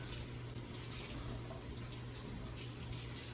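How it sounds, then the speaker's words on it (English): Tie-dyed fabric being rinsed under a running sink tap, a steady close splashing water flow with a low hum beneath, no talk. "You're going to just keep rinsing until the dye stops running out of it for the most part."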